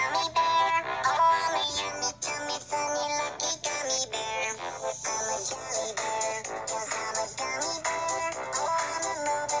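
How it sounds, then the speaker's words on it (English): A phone ringtone plays a bright, busy electronic melody that rings out loud and steady for the whole stretch, with no voices over it. "The phone is ringing!"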